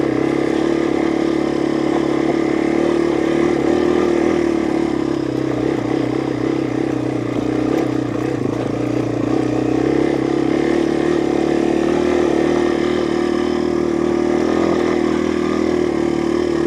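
Yamaha TW200 dual sport motorcycle engine laboring steadily in first gear while climbing rough terrain, a loud continuous mid-pitched drone with slight throttle swells and no talking.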